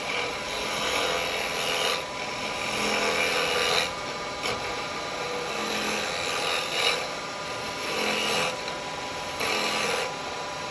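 A 9mm woodturning gouge cuts into a spinning knotty live-edge yew on a lathe, giving a close, steady rasping scrape that swells in repeated bursts about every two seconds with no talk.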